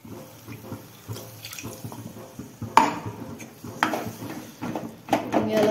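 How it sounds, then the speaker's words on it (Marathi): Water poured into a pan of brinjal (eggplant) curry in a home kitchen, with splashing and clinks of a utensil against the pan in irregular bursts, close and moderately loud. "आणखी थोडंसं पाणी घालतं याच्यात."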